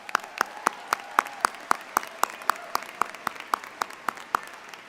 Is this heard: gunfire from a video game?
no